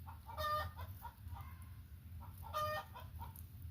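A hen fusses while trying to lay an egg, giving two bursts of loud, strained clucking a couple of seconds apart with softer murmured clucks between, close by over a low, steady hum.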